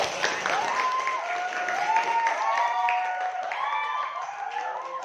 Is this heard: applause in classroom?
yes